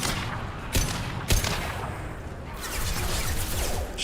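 Gunfire in the video game Mass Effect 2: two sharp shots stand out early, then a dense steady crackle of continued firing and noise without speech.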